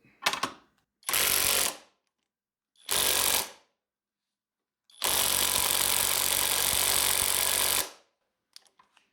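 A Uaoaii IW800 brushless cordless impact gun fires in four loud bursts: two short ones, a third short one, then a long continuous hammering run, with silent gaps between and no talking.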